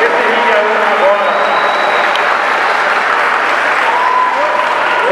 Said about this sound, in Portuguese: pedir a todos vocês uma salva de palmas para esses atletas